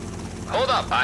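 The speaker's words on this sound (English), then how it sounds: "the helicopter has gone insane!" A helicopter in GTA Vice City Stories gives off a steady rotor drone beneath a person talking over it. The clip is short and the game sound stays in the background.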